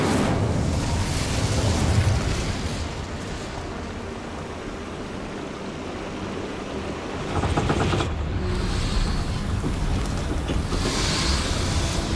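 An Incendio fire spell bursts in the Hogwarts Legacy video game as a loud, continuous roaring rush of flame and rumble that dips briefly, then surges again and holds to the end.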